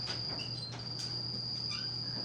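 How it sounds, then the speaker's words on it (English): An indoor cricket chirps with a continuous high trill, faint and steady, over a low room hum. "We have a cricket, and he is playing the same song banjo over and over again."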